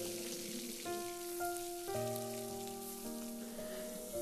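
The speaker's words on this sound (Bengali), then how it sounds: "এবার আমি মাছগুলো এক এক করে তেলের মধ্যে দিয়ে ভেজে নেব" Tangra fish frying in hot oil gives off a soft, steady crackling hiss, quiet and continuous beneath sustained background music.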